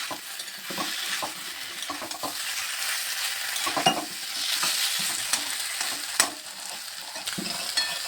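Papaya and tomatoes fry in a pan with a steady close sizzle, stirred by a spatula that makes repeated scraping and clinking sounds, with no voices.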